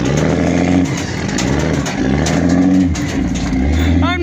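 A first-generation Cummins diesel pickup engine labors under heavy load while dragging another truck out of a ditch, a steady loud drone that surges and eases in waves over four seconds.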